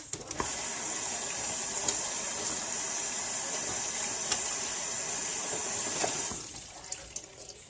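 A handful of spinach rinsed under a running kitchen tap, a steady close hiss of water splashing over the leaves that stops abruptly near the end, leaving quiet room tone.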